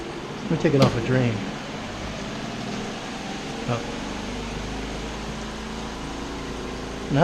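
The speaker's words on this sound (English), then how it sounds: "that's the water coming out of the spin cycle now" A mini washing machine, run from a Kodiak power unit, on its spin cycle with water draining out makes a steady close mechanical hum. A voice gives one brief exclamation near the start.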